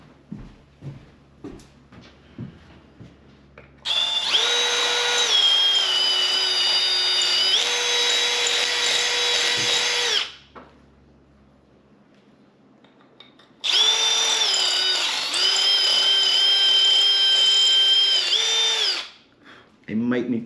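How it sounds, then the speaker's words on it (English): A power drill enlarges holes in a 3D printed Fender Telecaster-style guitar body, running in two loud sustained bursts of several seconds each with a quiet gap between them and brief handling clicks before the first. "It was just a tiny little bit that needed to be drilled down"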